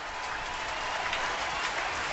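A near-sellout baseball stadium crowd applauds in a steady, dense wash of clapping, distant and even, for about two seconds.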